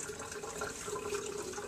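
Water runs steadily from a tap for washing in a care setting, a faint continuous splashing stream with no voices.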